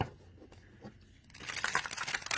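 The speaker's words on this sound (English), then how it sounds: "shuffling, overhand shuffle is beautiful." Overhand shuffling of a Seed Tarocle tarot deck begins as quiet scattered taps, then swells into a steady, close papery rustling and sliding of cards.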